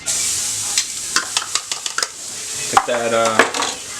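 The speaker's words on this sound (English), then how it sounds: "I'm gonna put that aside, throw my shallots in." Shallots sizzle in a pan holding the browned crust left from seared chicken for a piccata, a loud steady frying hiss with a wooden spoon scraping and clinking against the pan in quick bursts.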